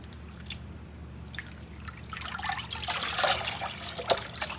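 Dyed yarn being washed by hand with tea tree oil scented wool wash and water, soft dripping and trickling that grows busier and louder toward the end, with occasional sharper drips.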